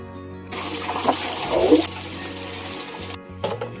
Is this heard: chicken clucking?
no